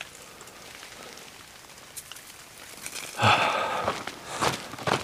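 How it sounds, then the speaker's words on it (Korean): Melting snow drops from tree leaves like rain on a winter hike up Hallasan, a faint, steady patter that grows louder and denser after a few seconds, heard outdoors with no talk. "기온이 또 오르니까 나뭇잎에 있는 눈이 지금 비가 오듯이 떨어지고 있습니다"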